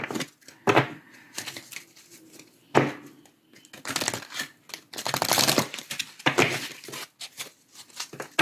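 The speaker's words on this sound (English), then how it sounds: "do a quick shuffle" A deck of oracle cards is shuffled by hand in irregular bursts of riffling and flicking, separated by short quiet gaps, close and moderately loud.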